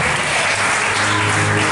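A congregation at a tabernacle convention claps hands together in loud, continuous, dense applause that fills the space without a break.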